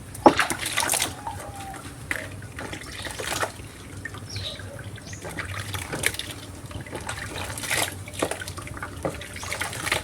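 Water runs and splashes from a tap while puppies are bathed, a continuous watery wash with occasional clatters and faint voices in the background.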